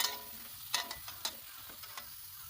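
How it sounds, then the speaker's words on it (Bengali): Fuchka puris frying in hot oil at a market stall, a soft continuous sizzle broken by a few sharp crackles and pops, close but quiet, with no talking. "একদম নিউ মডেলে ফুচকা ভেজে আপনাদেরকে দেখানো হচ্ছে"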